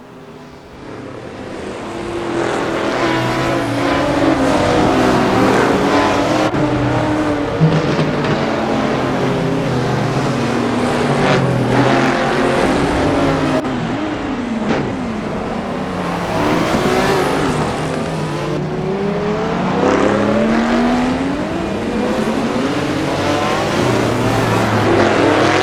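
Classic race car engines in a sim racing game roar and rev continuously, pitch sweeping up and down through gear changes as the cars accelerate and brake, loud and close throughout.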